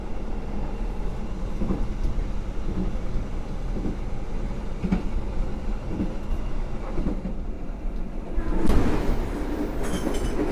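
Kahuripan passenger train passing on the opposite track, with steady rail rumble and clickety-clack of wheels on joints, swelling into a louder close rush near the end, no talk.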